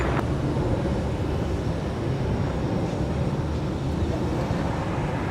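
A Spirit Airlines jet takes off from runway 25 Right at Los Angeles airport, a broad, steady, loud roar of engine noise that holds evenly from start to finish.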